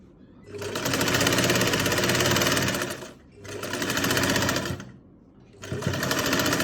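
A sewing machine runs in three long bursts while stitching a shirt sleeve, with short pauses between runs. The motor whirs loudly and close by, each burst lasting about two seconds, with no talking over it.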